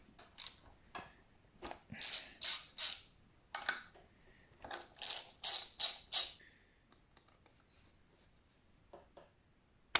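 Wrench work on the starter bolts of a 1975 Evinrude 9.9 hp outboard, giving bursts of quiet metallic ratcheting and scraping clicks in uneven clusters, close up with pauses between turns.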